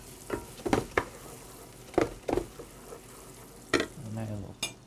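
Garlic is tossed into a hot pan for carbonara sauce, giving a few sharp scrapes and clatters over a low sizzle, close by, with a brief voice-like murmur near the end.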